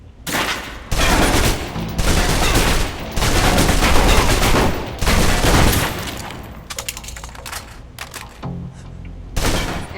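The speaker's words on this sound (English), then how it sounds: "Now, let's move on to the submachine gun. Now let's empty the clip." A submachine gun in the video game Alpha Protocol empties a full magazine: long, loud sustained bursts of rapid automatic fire, broken by brief pauses and ending in scattered single shots.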